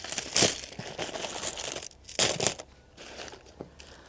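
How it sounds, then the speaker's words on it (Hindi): Coins spilled from a broken clay piggy bank clink and jingle in two bright bursts with scattered smaller rattles between, close and fairly loud with no talk. "नीचे 10-10 के 20-20 के सिक्के भी हैं"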